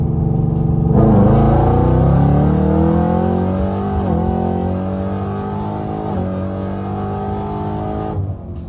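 750 wheel-horsepower Whipple-supercharged Chevrolet Camaro with a built MT82 manual gearbox launching hard, engine roaring loud and close with rising revs and gear changes at regular intervals, then lifting off at the end.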